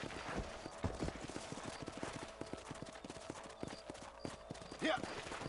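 Horse hooves clip-clop in the video game Red Dead Redemption, a rapid steady galloping rhythm throughout with a faint whinny near the end, under a quiet voice talking.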